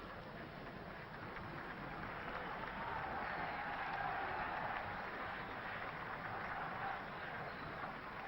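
Crowd at Filbert Street on its feet for a 1965/66 Division One match between Leicester City and Manchester United, applauding the visitors off the field; a steady, distant wash of clapping holds for several seconds.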